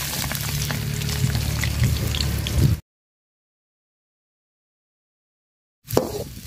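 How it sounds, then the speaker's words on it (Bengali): Chopped onions frying in hot oil with cardamom, cinnamon and bay leaf in a pot, a dense close sizzle for about three seconds, then a cut to silence and a short return of sizzling at the end. "পেঁয়াজটা লাল লাল করে ভাজা নিব"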